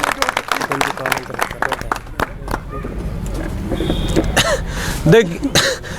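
Audience applause at a Hindaun City gathering of the Rajasthan unemployed federation: a burst of crowd clapping for the first couple of seconds that thins out, with talk and murmuring continuing afterward.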